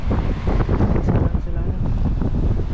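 Strong wind at sea buffets a fishing boat, a loud continuous roar of gusts against the microphone with rough, irregular surges; a voice is faintly mixed in.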